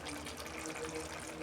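Ghee being poured into a cooked fig curry gives a soft, steady liquid trickle, faint and continuous over a brief moment, with no voices.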